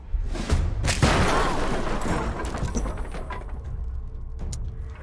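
In Baldur's Gate 3, a barrel blows up with a heavy boom close by, followed by crackling debris and a rumbling tail that fades over several seconds.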